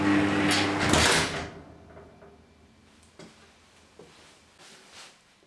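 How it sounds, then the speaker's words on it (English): A garage door being pulled shut after a weather seal has been fitted, a loud rolling rumble that fades within two seconds, followed by a few quieter clunks and rattles. "you can then close the garage door."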